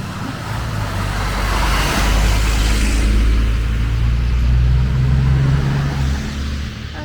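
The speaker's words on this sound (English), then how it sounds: "And I'm not going to argue with the truck." A truck drives along a one-way waterfront street after a nor'easter, its engine a steady loud low rumble that swells and fades over several seconds with broadband road noise and no talking.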